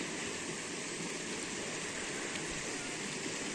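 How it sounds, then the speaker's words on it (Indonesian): A village river runs swiftly after a night of flooding, a constant broad rush of water that stays loud and even throughout with no talk over it. "ini airnya semakin deras semakin besar"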